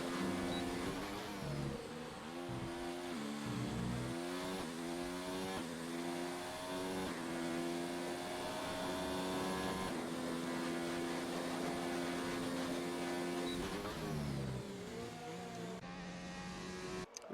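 A Racing Point Formula 1 car on a flying lap at the Austrian circuit in a PC racing game, its engine screaming continuously with repeated gear shifts rising and dipping in pitch, loud and close for the whole stretch.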